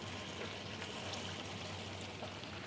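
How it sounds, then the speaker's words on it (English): Water pours steadily into a cooking pot for a Surinamese dish, a faint, even rushing trickle with no talking over it. "Now just add some water."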